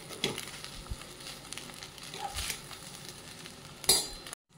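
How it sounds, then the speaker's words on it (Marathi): Paneer fried rice with a squeeze of lemon is gently stir-fried in a pan, a quiet sizzle with a few scraping and clinking strokes of the spatula against the metal. "मस्त असं परतून घेऊया हळूवारपणे."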